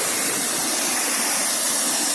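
A waterfall in Victoria Park, Truro, roars in a dense, steady hiss of falling water, loud and close, with no voices over it.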